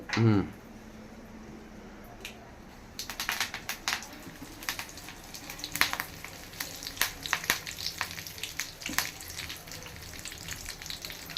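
Dried red chillies and curry leaves sizzle and crackle in hot oil with sharp irregular pops, close and steady, while a voice speaks faintly at the very start.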